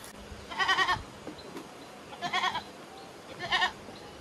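Goats bleat three times at a moderate distance, with short, wavering cries spaced about a second apart against a quiet outdoor background.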